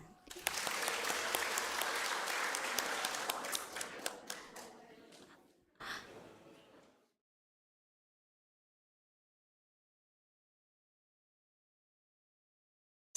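Congregation applause during a Sunday service at a GBKP church in Yogyakarta: loud, dense clapping for about five seconds, a brief fade, then a short second burst before abrupt silence.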